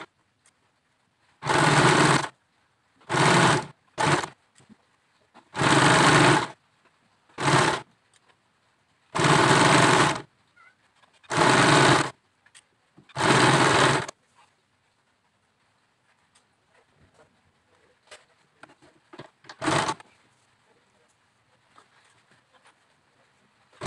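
Sewing machine stitching a pillowcase, running in eight or so distinct bursts of a few seconds each, close and loud, followed by near silence with faint handling noises and one last short burst.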